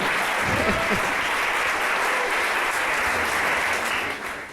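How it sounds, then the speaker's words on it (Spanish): A church congregation claps in sustained applause for the church members at a Christmas gathering, with a dense, even roar of hands that fades slightly at the end. "Denles un aplauso a los de la iglesia que les están regalando."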